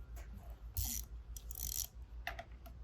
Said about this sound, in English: we're going to loosen the 4 inner bolts here